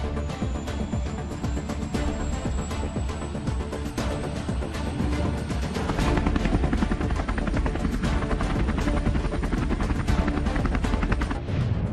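A helicopter flies steadily in Maharashtra, India, its loud, continuous rotor and engine roar filling the whole stretch with dense rhythmic chopping and no voices.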